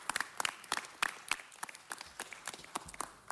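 A council meeting audience claps for volunteers, a scattered and fairly light round of applause with uneven individual claps that thins out toward the end.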